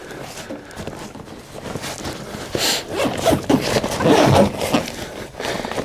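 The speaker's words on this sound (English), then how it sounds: "Take the top of the backpack, pull it up over the top of the hand pump. And I'm going to zip this guy up." A zipper being drawn closed on a backpack holding a deflated inflatable stand-up paddle board and hand pump, with a few scraping, rustling pulls of moderate loudness up close.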